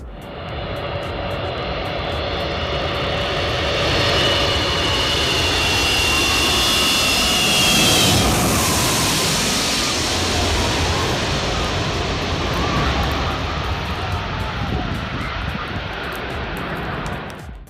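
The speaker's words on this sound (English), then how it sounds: "The An-225 Murraya surges into the sky like a moving fortress, defying its size with grace." Antonov An-225 Mriya cargo jet climbing away, its loud sustained jet-engine roar swelling and fading slightly over time, heard alone without voices.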